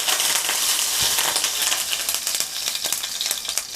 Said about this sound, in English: Let me throw this oil in here.